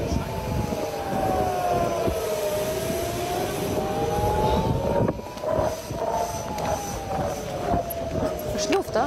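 An alarm siren wails at an airport during a rocket attack, its tone slowly rising and falling through a loud, dense background of noise and indistinct voices.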